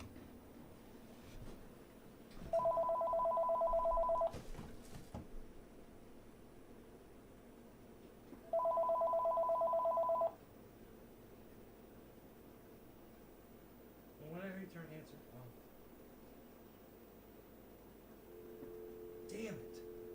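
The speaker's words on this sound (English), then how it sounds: "I wanted to turn the answering machine off. Let it keep ringing." A telephone rings twice in steady, evenly spaced electronic bursts, fairly clear over a quiet room hiss, with faint voices and small noises between rings.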